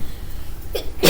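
A single sharp sneeze in a classroom during a math lesson, a brief quiet intake followed by a loud, close burst at the very end, with no talk.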